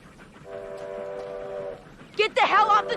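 Train approaching on railroad tracks, a sustained horn blast that holds steady for over a second, then gives way to loud, frantic shouting voices close by.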